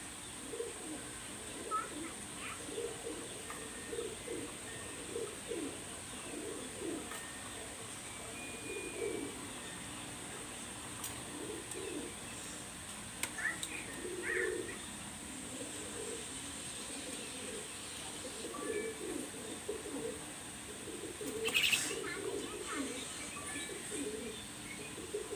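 Pigeons of the Oman and teddy types coo in repeated low, throaty phrases through the whole stretch, moderately close, with occasional faint chirps and background noise around them.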